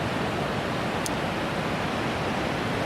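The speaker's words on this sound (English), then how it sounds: "I'd like to paint those sea stacks, those rocks, with the waves crashing in." Surf crashing against rocky sea stacks at Ruby Beach, a steady, dense roar of waves with no break and no voices.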